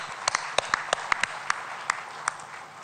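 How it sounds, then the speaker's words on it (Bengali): At the Bangla Academy book fair, a small crowd gives light, scattered applause, with a few distinct claps rising from a soft patter. "তাদের উদ্দেশ্যে আমরা একটা হাততালি দিই"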